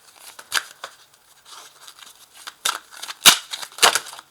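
Tarot cards being drawn and laid down on a table: several short, crisp card snaps and slaps with soft sliding and rustling in between, close and alone without talk.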